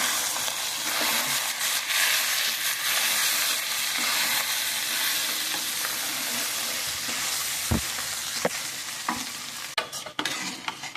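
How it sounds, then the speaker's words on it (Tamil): Bell peppers sautéing and being stirred in a pan for a curd-based capsicum curry, giving a steady close sizzle and hiss throughout, broken by a few scraping stirs near the end. "பெல் பெப்பர் எல்லாத்தையும் போட்டுட்டு ஒரு 5 minutes நல்லா வதக்கிக்கோங்க."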